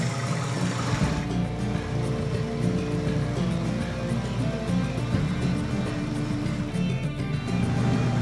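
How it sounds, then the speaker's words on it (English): A car engine idles steadily with a constant low rumble and a faint mechanical whine, continuous throughout and with no voices. "Car is running, engine running"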